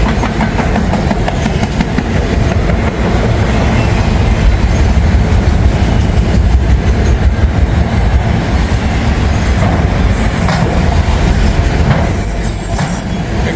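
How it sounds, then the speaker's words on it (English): A freight train of auto racks rolls past loudly and continuously, its couplers clanking and shifting, with rumbling wheels, rhythmic clacking and occasional squeals, no voices. "There goes the couplers moving around."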